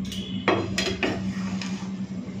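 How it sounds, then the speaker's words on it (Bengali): A metal lid is lifted off a cooking pot of pulao, giving a few sharp clinks and scrapes in quick succession, close and clear over a low steady hum. "ঢাকাটা খুলে নিচ্ছি।"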